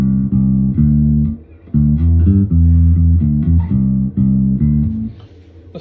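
Electric guitar riff run through an HX Stomp, an Aotearoa intermodulator and a Noble preamp clone, giving a loud, thick, driven tone with steady chugging low notes and short breaks, picked up by a phone microphone.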